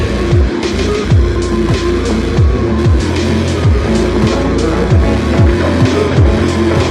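A car works through a driving test course with loud, close engine revs that climb and drop again and again, and tires squeal in places.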